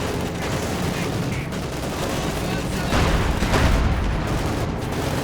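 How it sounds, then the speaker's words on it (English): A Panzer IV tank firing during a Company of Heroes 2 one-versus-one match, amid a continuous din of battle gunfire and booms, with a commentator talking over it. "Panzer IV continuing to fire away"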